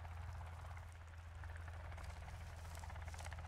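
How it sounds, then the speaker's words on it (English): A helicopter in the survival game Sons of the Forest drones from somewhere off in the distance, a steady low rumble that holds at an even, faint level with no voices over it. "Is that a helicopter?"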